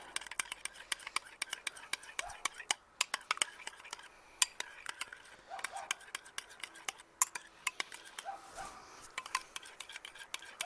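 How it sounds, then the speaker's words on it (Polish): Seasoning and pepper being stirred into beef ribs in a roasting pan on a Broil King Baron 490 gas grill, with irregular metallic clinks and scrapes of a utensil against the pan, fairly close and continuous. "I mieszamy."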